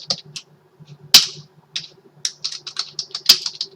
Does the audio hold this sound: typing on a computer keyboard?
yes